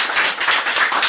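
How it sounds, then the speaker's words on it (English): An audience at an event on a cruise ship claps loudly and continuously, a dense wash of many hands close by. "come on, let's clap."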